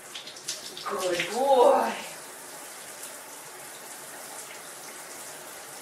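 Water sprays onto a muddy dog during a bath near its ears, a steady hissing gush that swells briefly then settles into a soft continuous spray, with a person talking gently over it.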